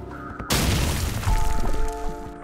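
An M67 hand grenade exploding in Call of Duty 4, a sudden loud deep boom that rumbles and rolls off over a couple of seconds after a short quiet lead-in.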